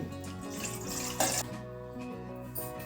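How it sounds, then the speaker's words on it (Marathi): Water runs steadily from a tap into a metal steamer pot on a gas stove, with a brief louder splash partway through and faint kitchen clatter. "मी इथे गॅसवर स्टीमर ठेवले आहे त्यात मी पाणी टाकून घेते"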